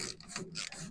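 A ratchet wrench clicks in quick bursts while turning a bolt on the exhaust of a John Deere 2010 tractor, up close, in a short run of metallic ratcheting strokes.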